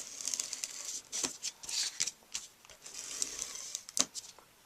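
Card stock with a deep emboss is rubbed down firmly onto strong adhesive, giving close, dry scuffing and crinkling strokes in short irregular bursts.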